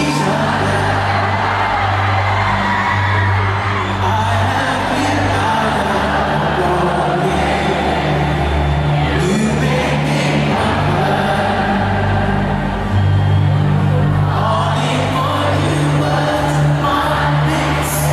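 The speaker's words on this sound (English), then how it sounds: "Well, I'll let the crowd sing." A huge concert crowd of around 80,000 fans sings along to a song, a dense, loud wall of massed voices with a steady low rumble and scattered whoops, sustained throughout.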